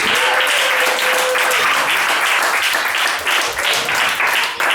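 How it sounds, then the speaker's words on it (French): Audience applause during a French-language storytelling performance, a dense steady patter of many hands clapping close and loud for the whole stretch without pause. "applaudissez-le mesdames et messieurs"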